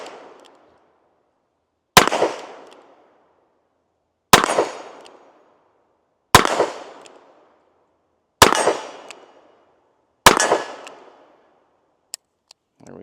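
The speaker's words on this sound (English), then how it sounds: "Go ahead and go to some single action shots." Five sharp revolver shots from a Smith & Wesson Model 19 fired single action, spaced roughly two seconds apart, each loud close crack trailing into a short echo, with a faint click near the end.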